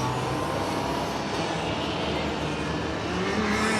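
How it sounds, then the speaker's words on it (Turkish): Go-karts accelerate around an outdoor karting track in Genk, Belgium, producing a loud, continuous roar of high-revving small engines that stays steady and dense throughout, with no speech. "Gent'te karting pistinde gazlıyorlar şu anda."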